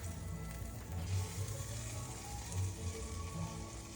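A grilled cheese sandwich sizzles in a frying pan over low heat, giving a steady, soft crackle and hiss at close range with no talking.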